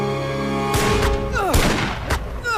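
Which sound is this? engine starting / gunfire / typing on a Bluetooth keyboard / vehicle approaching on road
gunfire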